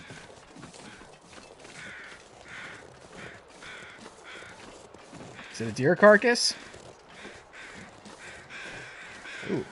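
Crows caw in bursts over a deer carcass in the survival game The Long Dark, with a short harsh flurry of calls near the middle over quiet wind and footsteps while someone talks.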